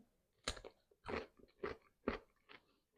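Close, crisp bites and crunching chews, about five distinct crunches in a quick rhythm, from eating a fresh greenhouse-grown cucumber.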